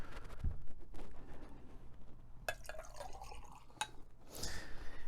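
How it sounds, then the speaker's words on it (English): Tequila is poured into a Paloma cocktail with lime juice, a soft liquid trickle and drip against glass, fairly quiet and close, with a few light clinks of glassware. "And then you do 3 ounces of tequila."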